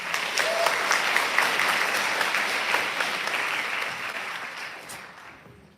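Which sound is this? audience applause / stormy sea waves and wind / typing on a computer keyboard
audience applause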